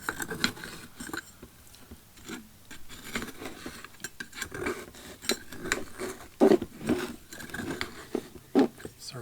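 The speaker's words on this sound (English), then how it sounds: "the scraping might sound terrible on the camera" A bonsai being loosened from the lip of its pot with a metal tool, giving quiet, uneven scraping and small clinks close by. A few sharper scrapes stand out near the end, and soft background noise runs under them.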